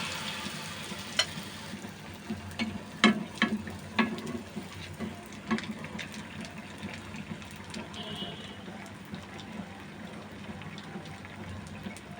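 Semolina spicy pitha frying in hot oil, a steady bubbling sizzle broken by sharp crackles and pops that cluster in the first half and thin out later, heard close and at moderate volume.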